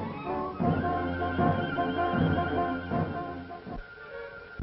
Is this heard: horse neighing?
yes